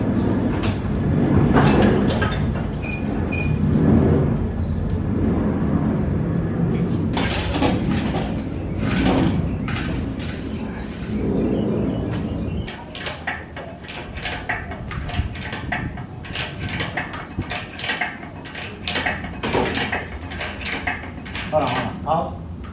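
A hoist lifting the engine out of a Caprice Classic: heavy mechanical rumbling and clanking, then a run of sharp rapid ratcheting clicks, with someone talking over it.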